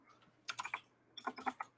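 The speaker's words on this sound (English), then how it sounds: "I have this retro keyboard," A retro computer keyboard is typed on in two quick bursts of several clicky keystrokes each, with a short pause between them. The sound is close and fairly quiet, and no one speaks.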